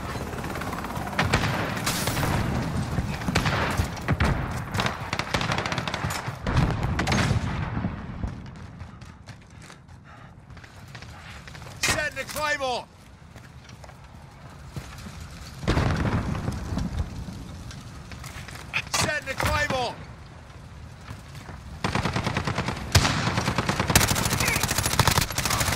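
Loud bursts of automatic gunfire in a Modern Warfare (2019) team deathmatch, with rapid rattling volleys, quieter gaps and some boomy impacts spread over a long stretch of close combat.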